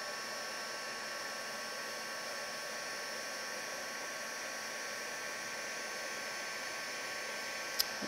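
A handheld heat tool blows a steady, even whooshing hiss like a hair dryer while melting embossing powder on a craft card, continuous and close with no break until a faint tap near the end.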